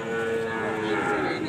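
A cow moos at a cattle market where female calves are sold, one drawn-out low call close by, with faint crowd murmur in the background.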